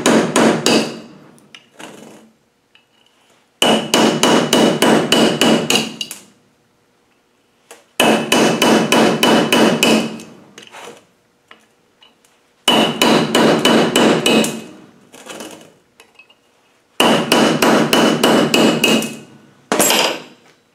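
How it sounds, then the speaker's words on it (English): A hammer drives a punch to knock rivets out of a Land Rover 300 Tdi Wabco vacuum pump, loud close metallic strikes that come in four rapid bursts of a dozen or so blows each, with short pauses and a few single knocks in between. "then using a punch, the right way around, and punch these out"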